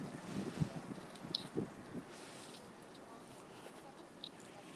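Wind blusters against the microphone during an outdoor street walk, with a few louder gusts early on before settling into a faint, steady rush.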